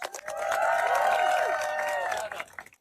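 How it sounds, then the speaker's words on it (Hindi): Volunteers from a Ramadan tent project clap for themselves in a warm burst of group applause, loud and close, with a few cheers mixed in before it quickly tapers off. "खुद को तालियां दे।"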